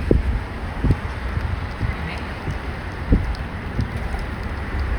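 Gusty wind in a stormy summer downpour buffets close by with repeated low thumps over a steady hiss that fits heavy rain, continuous throughout.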